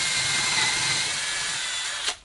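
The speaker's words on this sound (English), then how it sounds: "since I'm drilling through leather and the fabric" A power drill bores through leather and fabric in one close, steady whirring burst of about two seconds before cutting off.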